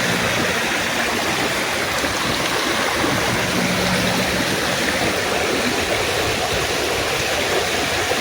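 A river stream flows in a continuous, even rush of water with soft gurgling, close and steady, and no voices.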